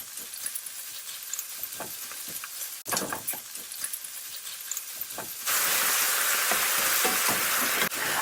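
Ham sautéing with onion in butter and oil in a pan, a soft steady frying sizzle that jumps abruptly into a louder, brighter hiss partway through, with light clinks of stirring.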